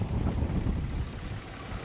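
Strong gusts buffet the microphone outdoors during planting season in West Texas, a loud, steady low rumble filling the whole moment with no other sounds.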